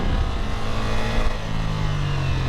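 A 2024 Ducati Multistrada V4S Grand Tour V4 engine pulling hard under acceleration, a loud continuous roar with rising tone and wind rush, no talking.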